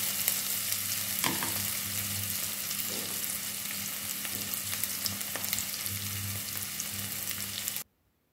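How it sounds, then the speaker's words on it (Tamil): Garlic, curry leaves and fenugreek sauté in a little oil for a Jaffna curry, a steady close sizzle with occasional stirring clicks, cutting off abruptly at the end. "ஒரு கொஞ்சமான எண்ணெயில் தான் நான் இதை வதக்கி எடுக்கிறேன்"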